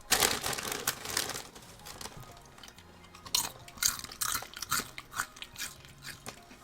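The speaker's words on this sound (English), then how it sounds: "Very good crunch. Very nice. Let's crunch a little bit." Crisp, close biting and crunching of potato chips, a few loud cracks followed by several bursts of chewing crunches, no talking.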